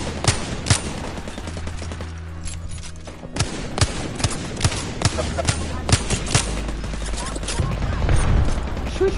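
Video game gunfire in Apex Legends: rapid bursts and single shots of bullet fire, sharp and loud, repeating across the whole stretch with short pauses, over a mechanical, low rumbling game backdrop.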